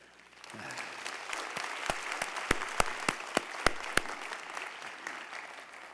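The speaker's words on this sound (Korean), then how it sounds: "우리 뜨거운 마음으로 환영하고 박수 한번 하십시다." Church congregation applauding at a Sunday service to welcome a visiting pastor, a steady wash of clapping with several sharp, louder claps standing out in the middle, no talking.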